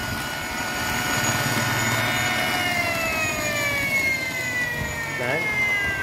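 An electric dirt bike motor runs steadily in fourth gear, giving a continuous high whine with rising and falling tones over a low rumble.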